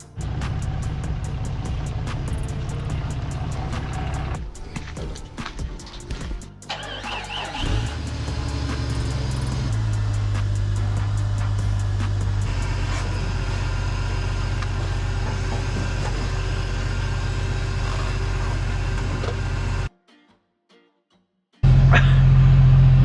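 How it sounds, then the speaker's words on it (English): A car's muffler scrapes and catches on a trailer during loading, with a steady engine rumble throughout, a few sharp scraping and knocking bursts partway through, then a brief silence before the rumble returns. "The muffler is caught on the trailer."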